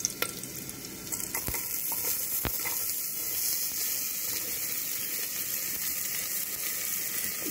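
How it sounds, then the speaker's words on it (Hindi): Bottle gourd added to a pan of hot cumin and green chili, with a loud, continuous frying hiss and a few sharp clinks of a utensil near the start, close, with no talk. "इसमें मैं लौकी डाल रही हूँ।"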